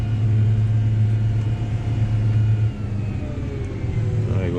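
New Holland T7030 tractor engine running high revs while spreading dung, a loud steady droning hum that dips briefly and then holds again.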